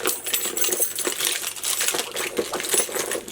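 Keys drop into a mini bag with a rapid run of bright metallic jingles and clinks, close and fairly loud, rattling irregularly for a few seconds with no talking.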